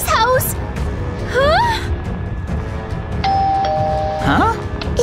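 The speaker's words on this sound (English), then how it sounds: "It's ringing the doorbell!" A two-tone doorbell chime from Minecraft rings once, clear and bright, at a villager's house, while a person gasps and exclaims in surprise before and after it.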